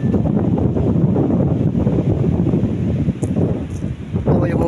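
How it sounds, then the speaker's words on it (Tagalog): Strong wind gusts across the microphone out at sea near fishing boats, a loud continuous rumbling roar with buffeting and a brief lull before picking up again. "Narinig niyo ang hangin na yan?"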